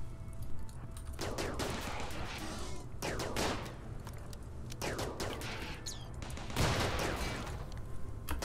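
Turret gunfire in RimWorld, repeated short bursts of crackling shots arriving every second or so, dense and fairly loud over a constant rumbling battle background.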